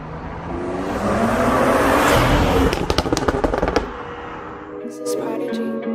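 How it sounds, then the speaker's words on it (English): A BMW 340i with the B58 engine, stock exhaust and aftermarket downpipe roars past close by, rising to a loud pass, then crackling pops on the overrun before the engine note fades away. "Let's give you guys some flybys of the stock exhaust with the downpipe"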